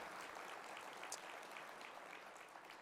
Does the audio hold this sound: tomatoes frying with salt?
no